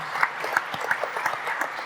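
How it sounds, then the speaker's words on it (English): Applause from a conference audience at an industrial automation panel session, a short burst of moderately loud, dense clapping with no voices over it. "Big applause, Saverio."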